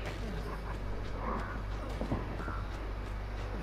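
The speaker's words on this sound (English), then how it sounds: "Oh, crow. There's 2 crows." Crows cawing in the video game Dead by Daylight, a few hoarse caws over a steady ambient drone with faint flapping.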